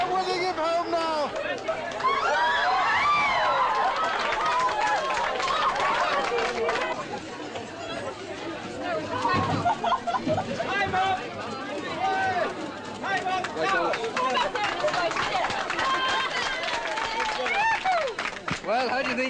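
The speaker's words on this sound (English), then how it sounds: "He's getting the most tremendous cheer from the crowd." Horse race crowd at the finish as Red Rum wins, a far-off mass of cheering and chatter with scattered clapping. A voice talks loudly over it.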